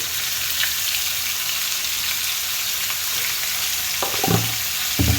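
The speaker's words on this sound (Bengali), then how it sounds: "এবার আমগুলো দিয়ে দিলাম। এবার এর মধ্যে আমি দেবো লবণ আর হলুদ।" Mango pieces fry in a pan with onion, salt and turmeric, giving a steady, close hiss of oil. A few louder scraping stirs come near the end. No one speaks.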